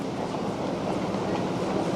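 A train rolls into Shibuya Station in Tokyo with a steady, close rumble and a continuous rush of wheels on rail, evenly loud throughout without any talk.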